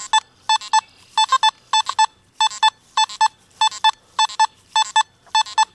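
Nokta Makro Simplex Plus metal detector sounding target tones over buried 1, 5 and 10 cent coins set 4 inches deep, crisp electronic beeps in quick pairs and triplets repeating rhythmically at close range.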